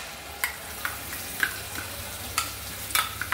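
Hot oil with cumin seeds crackles steadily in a pan for a traditional Marathi jackfruit curry as a spice paste is added. Scattered sharp pops and stirring scrapes sit over the sizzle, with no talk.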